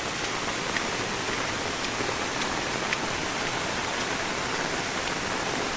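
Heavy monsoon downpour in a flooded Devagad, Sindhudurg village, a dense, steady hiss of rain and rushing water with no pauses, fairly loud and unbroken.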